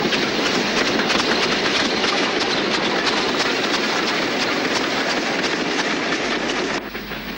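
A 1960s standard Class 5 steam locomotive in Swindon Brunswick Green runs southbound into Shrub Hill at Worcester, a loud, close rolling roar with rhythmic clickety-clack of wheels on rail, easing slightly at the end.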